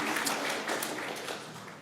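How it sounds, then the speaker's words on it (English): A debate audience gives a dense, steady round of applause, the clapping filling the whole moment at an even level before easing slightly at the end. "Another round of applause for Ubie, really quick"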